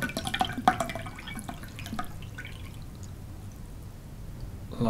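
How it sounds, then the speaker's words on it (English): Distilled water poured from an opened bottle into a glass, filled right to the brim; a burst of splashing and dripping trickles up front, then the stream fades to a soft, quiet settle. "we're going to take this pure distilled water, going to open it up, and then we're going to put it in this glass"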